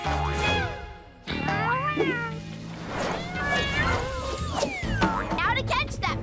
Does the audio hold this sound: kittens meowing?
yes